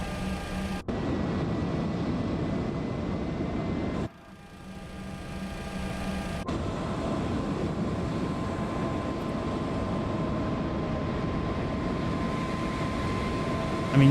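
An MD-11 jet engine runs steadily in Microsoft Flight Simulator 2024, a continuous droning hum with tonal whine, briefly dipping and cutting out before resuming at an even level.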